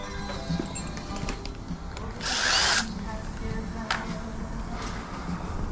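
A failing power drill whirs in a short high-pitched burst lasting under a second during a remodel, set against quiet background noise and faint clatter.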